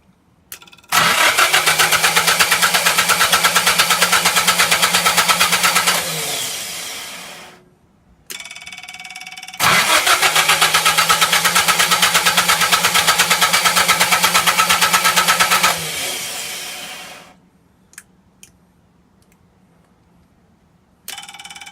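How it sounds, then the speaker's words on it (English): An old houseboat generator set cranks and fires up twice, each run a loud, steady engine roar lasting several seconds before dying away, with brief clanks and quiet gaps between attempts. "Alright, the old generator started up"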